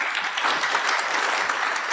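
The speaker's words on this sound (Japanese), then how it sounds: "拍手。" An audience at a symposium applauds in a steady, dense burst of clapping, moderately loud and unbroken throughout.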